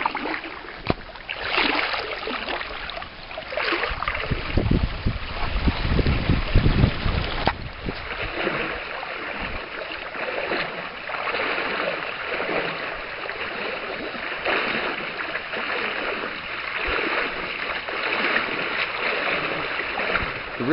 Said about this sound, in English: you can see the river down there flowing along